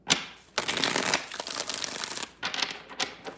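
Tarot cards being shuffled by hand during a reading: a short riffle, then a longer run of dry, papery shuffling bursts, close and fairly loud, with no one talking.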